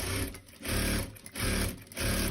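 A sewing machine stitches fabric for a small zippered toiletry pouch in steady bursts, running in three loud, close runs separated by brief pauses, with no talking.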